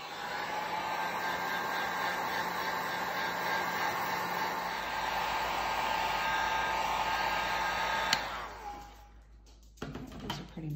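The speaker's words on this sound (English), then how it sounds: "Heat gun." A heat gun on low setting drying Finnabair Unicorn Paste, a loud steady whooshing blow running for about eight seconds before switching off abruptly, followed by faint handling noises.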